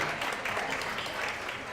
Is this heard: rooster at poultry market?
no